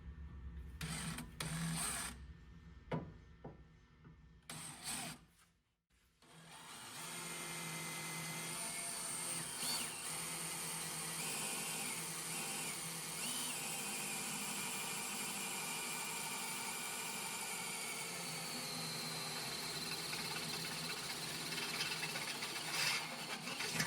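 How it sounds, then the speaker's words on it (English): Step drill bit boring holes in a 2nd Gen Tacoma's frame for an Overland Series rear bumper install; after a brief pause, a steady, loud, close high-pitched whine grinds on without letup. "We'll drill these holes first."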